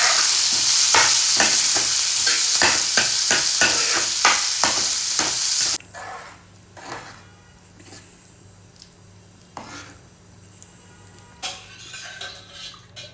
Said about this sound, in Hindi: कड़ी पत्ते का जो तड़का लगाया है ना मैंने,